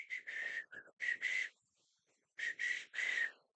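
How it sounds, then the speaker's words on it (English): A person whistles nearby in short, clear tonal phrases, pausing between two bursts of notes. "I've been practicing whistling a lot"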